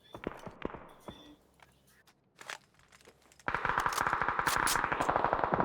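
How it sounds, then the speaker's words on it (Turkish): PUBG firefight gunfire: scattered sharp shots and crunchy clicks at first, then a dense, loud stretch of rapid automatic fire over the last two seconds. "Çatışma çok büyük."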